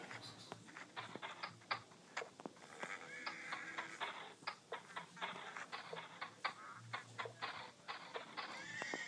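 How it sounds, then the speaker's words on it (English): Horses in the video game SurvivalCraft, with a run of crisp clip-clop hoofbeats and occasional whinnies, fairly faint and close, with no talk over them. "See some horses over here."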